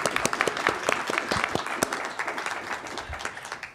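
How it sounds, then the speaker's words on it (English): An audience at an academic symposium applauds steadily, a dense wash of claps from many hands at moderate distance, sustained throughout. "Let's give them a round of applause."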